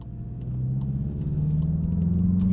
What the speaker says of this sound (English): Ooh, good rev match.